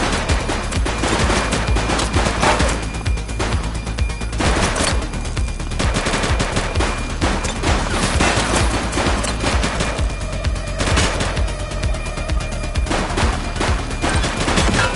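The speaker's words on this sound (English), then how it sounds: "Oh, she's shooting!" Heavy gunfire in the police game The Precinct as a shootout with armed suspects plays out, with loud, continuous overlapping volleys and rapid bursts running throughout.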